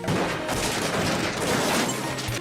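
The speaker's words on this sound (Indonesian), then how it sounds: "Mereka diberondong tembakan yang sangat banyak" Dense, relentless heavy gunfire roars continuously in a shootout, countless overlapping shots merging into one loud barrage.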